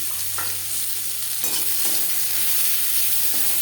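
Chopped onion fries in a small amount of oil in a wok, giving a steady hiss with a few sharp stirring scrapes spaced across the short stretch.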